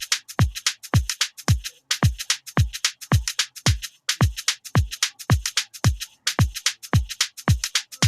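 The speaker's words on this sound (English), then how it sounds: "With another snare it sounds like this." A steady programmed drum loop made in FL Studio Mobile plays with a swapped-in snare, punchy kicks and crisp hits repeating in an even rhythm. It is loud and dry throughout, with no talk.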